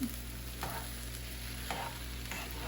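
Fried rice with egg stirred in a hot pan: a steady sizzle runs throughout, with a few soft spatula scrapes at regular intervals, close and with no talk.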